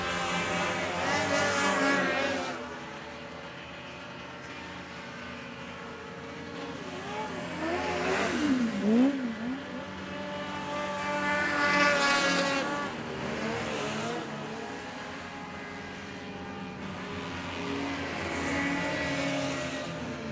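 Racing hovercraft at a championship race pass nose to tail through a paddock turn, their engines whining and surging loudly in several swelling waves as each craft sweeps by.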